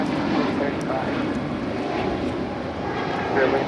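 An airliner takes off at Los Angeles International Airport, its engine roar a broad steady rumble that swells slightly toward the end, with voices talking over it.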